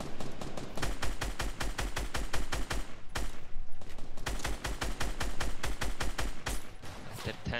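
Rapid automatic gunfire in the video game Fortnite cracks out in loud, tightly spaced bursts with a brief pause between volleys, and no one speaks over it.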